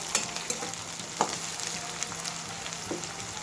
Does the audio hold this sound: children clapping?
no